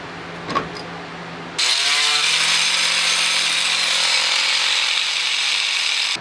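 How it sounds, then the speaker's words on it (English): A wire wheel on a power tool strips zinc coating off metal brackets. A brief knock comes first, then a loud, continuous high grinding whir runs alone to the end. "So I'm gonna try and wire wheel this stuff off as best I can."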